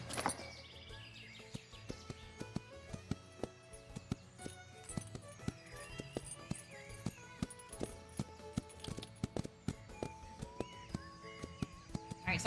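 Horse hooves gallop in The Ranch of Rivershine video game, a steady rapid clip-clop rhythm under continuous game music, with no talk.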